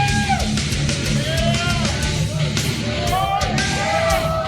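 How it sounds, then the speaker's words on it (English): A loud wrestling crowd at a Supreme Pro Wrestling event for the killer Kevin Roberts, a dense continuous roar of yelling and cheering with individual shouts rising above the mass of voices. "The crowd is so loud, shouting in support of the killer, Kevin Roberts."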